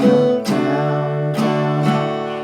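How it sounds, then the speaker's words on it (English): An acoustic guitar is strummed in a down-and-up pattern, sustained chords ringing fully with a few sharp strum accents, loud and close with no voice. "playing that strumming pattern one measure on each chord"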